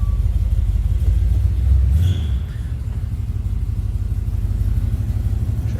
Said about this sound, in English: you can hear how smooth it runs. Nice sounding car.